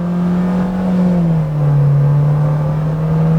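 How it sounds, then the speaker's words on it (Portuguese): A 2020 Renault Stepway Iconic with a CVT gearbox accelerates at full throttle on the road, its engine drone loud and steady, rising slightly in pitch as the continuously variable transmission holds revs. "Acelerando tudo e vamos ver se ele chega até 100 km por hora aqui nesse trecho"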